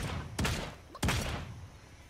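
Two sharp gunshot bursts in the Realm Royale video game, each a loud crack with a short decaying tail, about half a second apart, no talk over them.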